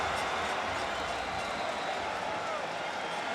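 Stadium crowd at a World Baseball Classic game between Puerto Rico and Venezuela roaring after a go-ahead hit, a dense, steady wall of cheering that stays loud throughout.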